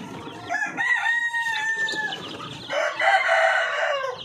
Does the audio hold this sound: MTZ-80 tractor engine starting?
no